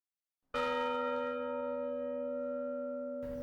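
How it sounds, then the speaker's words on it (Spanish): A single loud church bell strike in San Carlos rings out and hums with a long, sustained ringing tone that slowly fades. "Ya habíamos escuchado sonar la campana de la iglesia mientras recorríamos San Carlos"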